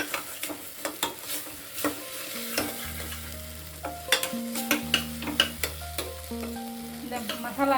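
Spices and garam masala stirred and frying in a pan for tomato rice, a steady sizzle with repeated scraping and stirring strokes, close and clear with no talking.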